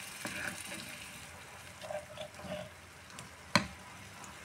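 Water goes into a pan of sizzling onion and chicken liver, making soft crackles and a hissing splash, then a sharp clatter of a utensil.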